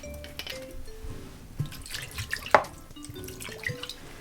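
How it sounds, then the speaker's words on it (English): Chicken wings rinsed under running water at a kitchen sink, heard as soft dripping and splashing with a brief louder splash midway, close and fairly quiet with no talking. "I'm going to wash this off"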